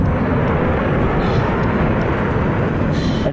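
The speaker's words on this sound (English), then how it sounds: "Chopper, it's a chopper." A helicopter flies overhead in a Battlefield game match on the Caspian Border conquest map, a loud, steady broadband roar that holds without break and drops away only at the very end, with no talk over it.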